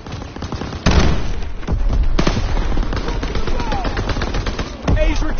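Near-continuous gunfire in the World War II shooter Call of Duty: WWII during a timed multiplayer match: loud bursts of rifle and machine-gun fire with sharp louder shots at intervals, heard alone without talk.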